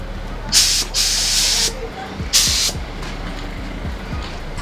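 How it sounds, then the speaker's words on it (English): A paint spray gun hisses in two bursts, one long and one shorter, spraying a coat over a rust repair, with a quieter mechanical hum running underneath. "Get it in the gun and we can start spraying."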